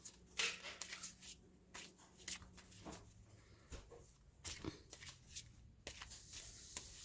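Tarot cards are shuffled by hand in a quiet room, a run of crisp riffling and soft slapping bursts with short pauses between them.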